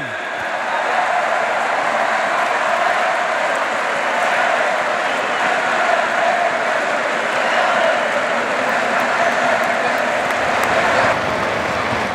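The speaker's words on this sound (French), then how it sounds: "Un tonnerre d'applaudissements pour Walter Benitez" A crowd gives a long, thunderous round of applause for Walter Benitez, honoured for his first call-up to Argentina, a dense, unbroken wash of clapping held at a steady level throughout.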